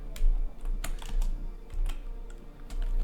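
Someone types on a computer keyboard, irregular quick keystroke clicks close up over a low background hum, with no speech.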